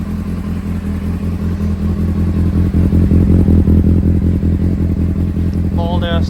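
A 2003 Honda CBR600RR fitted with an Arrow exhaust and Yoshimura headers runs close by, its engine giving a steady, throbbing idle that swells slightly as it revs, then a brief higher whine near the end.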